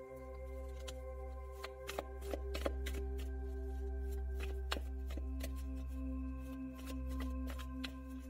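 A deck of tarot cards shuffled close up, giving a run of quick papery riffles and flicks in irregular bursts over a steady low hum, with no talking.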